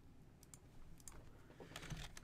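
Typing on a computer keyboard, with faint, quiet key clicks tapping out in small irregular clusters over a soft background hum.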